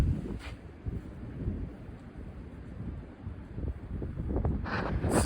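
Strong wind gusts during a severe wind event, roaring and buffeting the microphone in a steady low rumble that swells and surges throughout, loud and close, with no talking.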